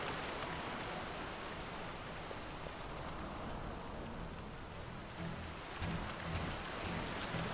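Rain falling in the Giza Plains of the video game Final Fantasy XII, a steady broadband hiss of downpour that stays even and unbroken throughout, with no voices over it.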